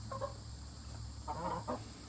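Several hens in a backyard flock near a cabin give soft, short clucks in two brief bursts, moderately close over a steady low background hum.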